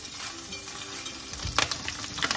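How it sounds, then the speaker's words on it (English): Onion and garlic frying in a pan, a steady low sizzle with a few clinks of stirring toward the end, close and moderately quiet. "Cook through the onion and garlic."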